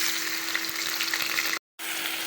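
Rice frying in hot oil in a pan with cinnamon, cardamom and bay leaves, a steady close sizzle with faint stirring scrapes, broken by a brief silent gap near the end.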